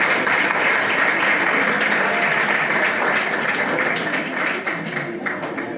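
Dense, continuous applause from an audience at a coaching center farewell party fills the whole stretch, loud and steady, tapering slightly toward the end.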